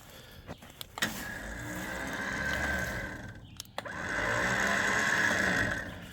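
An electric winch mounted on a truck whirs steadily as it pulls, with a brief stop and a couple of clicks before it resumes at a slightly louder, sustained drone.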